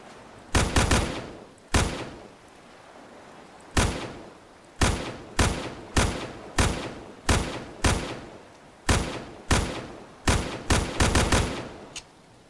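Gunfire in the video game My Island, loud sharp shots fired one at a time or in quick pairs at an irregular pace, about fifteen reports each ending in a short decay, with near silence between them.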